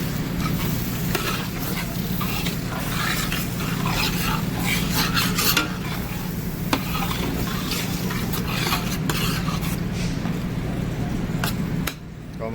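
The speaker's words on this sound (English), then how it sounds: "Give this a stir." Canned tomatoes are stirred in a pan, giving a steady scraping, rubbing texture with soft watery clicks throughout under a low background hum.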